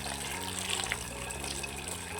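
Cold water runs steadily from a tap over boiled chow mein noodles, making a continuous, moderately loud gushing and splashing with no voices.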